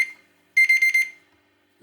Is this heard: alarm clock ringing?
yes